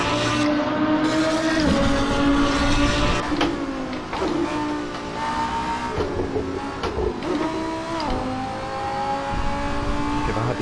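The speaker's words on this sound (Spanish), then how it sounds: "Como suena el coche con la cámara afuera" A race car engine in Assetto Corsa, heard from an outside camera, revs hard and close. Its pitch repeatedly climbs and drops through gear shifts, with a harsh, buzzy roar throughout.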